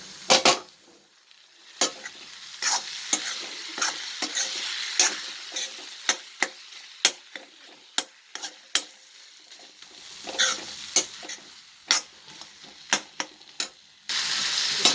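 Tomatoes with ginger and garlic sauté in a pan for a spicy Andhra-style country chicken curry, a steady sizzle broken by frequent sharp clicks and scrapes of a spoon stirring, close and continuous with no talking.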